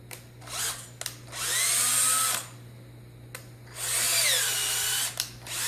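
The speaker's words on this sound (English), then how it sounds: "It's easier to go ahead and tap it now while I'm here." A power drill taps threads for grub screws in a machined drive shaft, whining in two long, loud bursts that rise and fall, with quieter gaps and light clicks between them.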